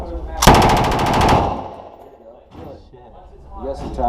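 A machine gun at a shooting range fires one loud, rapid burst of closely spaced shots, then falls silent while voices talk faintly nearby.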